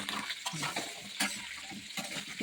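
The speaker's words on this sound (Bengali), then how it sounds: "আলুটা ভাজা বসিয়ে দিয়েছি" Potatoes frying in a pan over a wood fire, a steady oily crackle with intermittent stirring scrapes and utensil clinks, fairly close and moderately quiet, with no speech.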